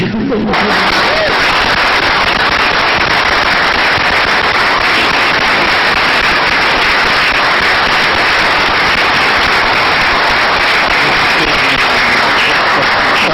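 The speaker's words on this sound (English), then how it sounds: "which is now followed by a round of applause" A city council meeting audience gives a sustained round of applause honoring a local cafe's 20th anniversary. Dense, loud clapping fills the room steadily from start to finish.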